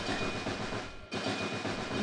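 A cartoon counting train rolls along with a loud continuous rumbling clatter, broken by a brief dip midway before resuming.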